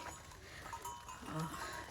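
Goats are led toward the jungle on a cold day in Nepal, with faint rattling livestock bells and soft animal sounds at low volume.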